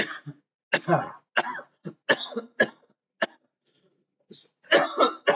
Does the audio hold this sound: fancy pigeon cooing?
no